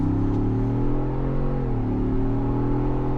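A Ford Bronco EcoBoost turbo engine, past break-in at 958 miles, holds a steady, close, loud growling hum. The pitch wavers slightly and dips mid-way with no talk over it.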